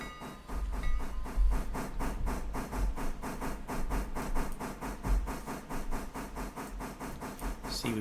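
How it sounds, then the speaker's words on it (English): A passenger train rolls past in the Railroader game, with steady rhythmic clickety-clack of wheels over rail joints and a hissing, rumbling undertone, loud and continuous throughout. "we've got the passenger train coming back right now"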